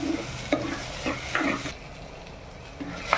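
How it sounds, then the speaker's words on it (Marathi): Tomatoes fry in a pan for egg curry, giving a soft sizzle under repeated scraping stirs that come in short bursts and then trail off toward quiet. "आता आपण टोमॅटो टाकून घेऊया। टोमॅटोला पण थोडं नरम होईपर्यंत शिजवूया।"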